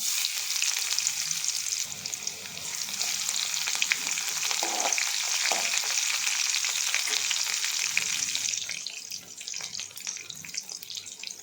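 Crushed garlic cloves frying in oil for an anchovy fish curry, a steady close sizzle and crackle with occasional clinks, easing off toward the end.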